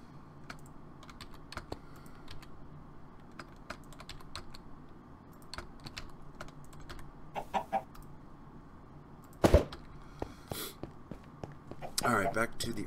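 Minecraft chickens clucking softly in the background while keyboard typing and mouse clicks clatter up front, with a louder burst of clicks near the end.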